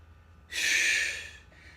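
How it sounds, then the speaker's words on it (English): A single forceful exhale during a boxing-and-core HIIT exercise, a sharp breathy rush of air up close that swells and then fades over about a second, with no talk around it. "So again, breathing out like this"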